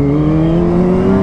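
A Kawasaki ZX-25R motorcycle engine hums steadily and loudly up close, a smooth continuous tone with strong harmonics, heard alone without talk.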